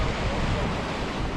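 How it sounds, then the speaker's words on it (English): Waves breaking against rocks along the wild North Sea coast of Scotland, a steady near wash of surf and spray mixed with wind noise, with no voices. "Those waves spray in the air from behind us"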